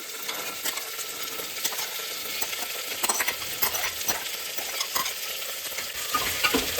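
Chana dal frying in oil while being stirred, a steady close sizzle with repeated scraping and clinks of a spoon against the pan, no voices.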